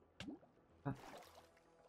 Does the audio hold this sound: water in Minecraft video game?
yes